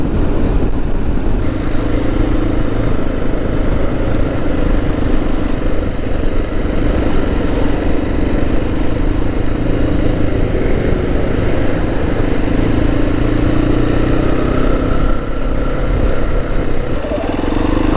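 A motorcycle engine drones steadily and loudly while riding through the streets of Durrës, a constant near engine hum with wind rush and slight fluctuations throughout, no speech.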